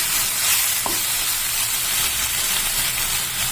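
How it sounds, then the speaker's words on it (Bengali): A spoon working poppy seed paste into soft beans and potatoes in a hot pan, steady sizzling hiss with soft scraping stirs and one brief clink, close and continuous without talk. "এই পোস্ত বাটাটা আমি আবার সব কিছুর সঙ্গে ভালো করে মিলিয়ে দেব।"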